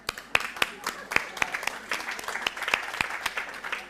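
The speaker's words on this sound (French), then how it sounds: "On l'applaudit." Scattered hand claps from a small group at a Catholic prayer meeting, irregular and sparse, with voices murmuring underneath.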